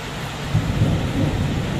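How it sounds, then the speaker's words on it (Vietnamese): Steady rain hiss with a low rumble of thunder rolling underneath, continuous and fairly close, no voices. "Trời mưa làm gì mà cái đây bà nội."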